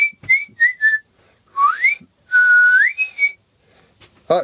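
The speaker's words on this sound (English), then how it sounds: "You don't hear anybody whistling anymore, do you?" A person whistles a short tune, clear bright notes with gliding pitch in a few phrases separated by brief pauses, close and alone.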